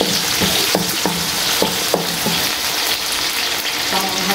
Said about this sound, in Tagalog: Gigisa lang muna natin po ang ating bawang.